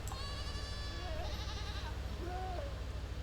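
Goats bleat in a video game, with a couple of wavering bleats over a steady buzzing, humming background at moderate loudness.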